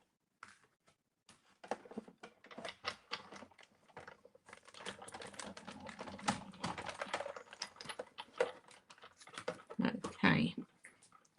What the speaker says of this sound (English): I'm just going to emboss that for you now.